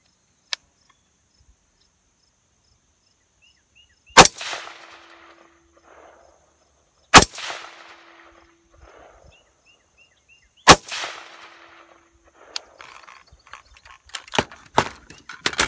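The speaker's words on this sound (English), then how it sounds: "I'm gonna put 3 more shots on it" Rifle shots ring out at an outdoor shooting range: three sharp, loud reports several seconds apart, each with a decaying echo, followed by scattered fainter knocks and clicks.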